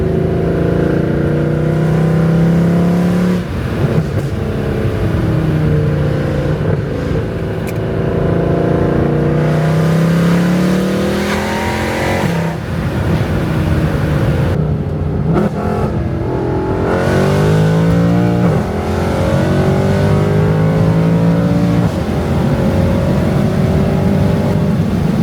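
A supercharged Acura TL-S accelerates hard through several pulls, heard from inside as a loud, continuous engine roar that climbs in pitch, drops at each gear change and climbs again.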